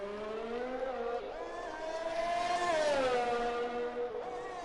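An F1 racing car engine in a video game whines through the final sector of the Singapore circuit, its pitch rising and falling through gear changes, with a faint engine note and no talk.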